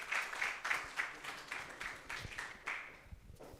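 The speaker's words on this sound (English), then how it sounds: "Give them a round of applause." Applause from the audience at a coaching celebration summit, a moderately quiet patter of clapping lasting a few seconds with short louder bursts.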